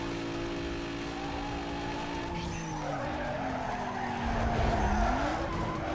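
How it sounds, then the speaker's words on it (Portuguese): Tires squeal as a car skids hard in the Need For Speed Most Wanted racing game, a long gliding screech over steady engine drone that swells louder near the end. "Derrapou demais."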